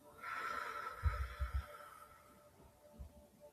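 A slow, steady exhale during a calming breathing exercise, a soft breathy hiss drawn out over a couple of seconds, close and quiet with a few low thumps beneath.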